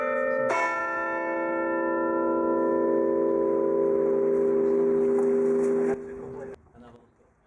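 Church bells ring from a steeple beneath a twisted spire, a sustained peal with strong harmonic tones that swells loudly and then decays toward silence near the end.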